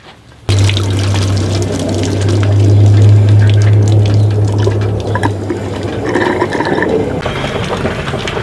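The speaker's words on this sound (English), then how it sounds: "I can monitor my water going in my tank right there" Water running from a hose into the fresh-water tank of a Casita RV, a steady close pouring rush that starts abruptly and continues unbroken, with a low droning hum under the first part.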